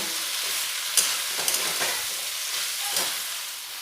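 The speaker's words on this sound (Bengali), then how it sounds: "দিয়ে কুমড়োগুলো এর সাথে ভালো করে ভেজে নেব।" Close, loud sizzling of pumpkin and carrot pieces frying in a pan, broken by several quick stirring scrapes and clicks at irregular intervals.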